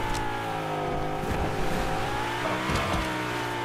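A car engine drones steadily in a video game, holding a sustained mid-revving tone with harmonics that shift slightly while the car is driven. It is loud and close, with no voices over it.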